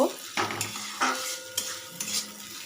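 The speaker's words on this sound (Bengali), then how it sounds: "পেঁয়াজটা একটু ভেজে নেব" Chopped medium onion frying in a little white oil in a wok, with repeated spatula stirs and scrapes against the pan over a soft sizzle, each stir a distinct clatter roughly every half second.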